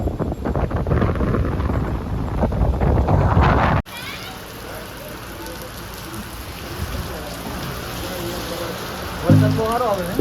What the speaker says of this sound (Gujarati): વરસાદ બહુ સારો આવે છે.